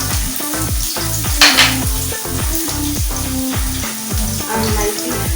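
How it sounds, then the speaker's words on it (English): Food sizzles and crackles steadily in a hot frying pan, close up, with a few stirring scrapes and a brief clatter partway through. "a little bit of onions, and now it sizzles"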